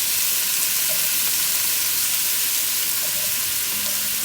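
Onions sizzle steadily in hot oil for beans and rice, with a dense, even frying hiss and occasional soft stirring scrapes; no one speaks.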